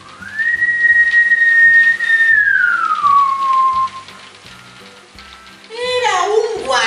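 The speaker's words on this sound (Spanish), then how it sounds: "cuando de pronto, amiguitos, escucharon un silbido" A single long whistle holds a steady pitch, then glides downward and fades; a voice briefly follows near the end.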